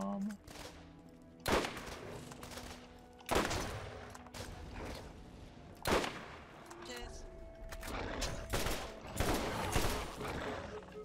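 Gunfire in the video game Borderlands: several sharp, loud shots land at irregular intervals over a busy game soundscape, with some quieter bursts between them.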